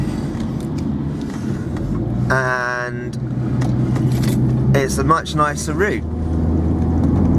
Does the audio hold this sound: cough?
no